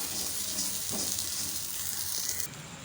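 A rice flour and semolina tiffin mixture with coconut is sautéed in a pan, giving a steady, close sizzling hiss with a couple of soft stirring scrapes.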